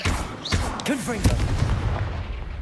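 A Confringo fire blast spell explodes in Hogwarts Legacy as a sharp booming burst, followed by crackling impact and magical whooshes, with a voice speaking over the effects.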